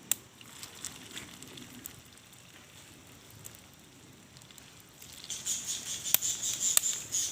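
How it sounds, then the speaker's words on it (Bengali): Potato and egg pakoras slipped into hot oil and frying over medium-low heat, giving a soft, continuous crackle that swells into a denser, brighter sizzle with sharp pops near the end, close and fairly quiet. "এখন আমি এটাকে চ্যাপটা চ্যাপটা করে তেলের ভিতর দিয়ে দেব।"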